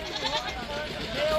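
Goats bleat at a Punjab livestock market, with several short, nasal calls rising through the din of the crowd while someone talks nearby.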